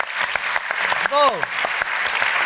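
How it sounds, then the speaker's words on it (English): An audience at an Edinburgh TV Festival live pitch panel claps in a steady round of applause, many hands close together, while a voice briefly speaks over it. "All right, round of applause, guys."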